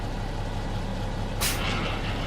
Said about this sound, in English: Brakes coming on.